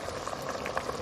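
Water with rice bubbling at a steady boil in a cooking pot, a dense close fizz of small popping bubbles without a break.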